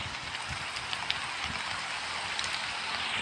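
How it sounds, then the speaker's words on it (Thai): Steady rain pours down in a Roblox video game map, a dense even patter with scattered individual drops ticking through, no voices. "ฝนตกจริง"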